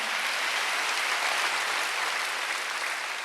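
Church congregation at a Korean Wednesday worship service clapping together, a dense, steady wash of hand claps held at even loudness throughout with no voices on top.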